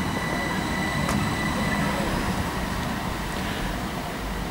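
A British Rail Class 357 electric passenger train rolls past at Benfleet station in England, a steady loud rumble of wheels on rails with a brief squeal, heard close and without talk.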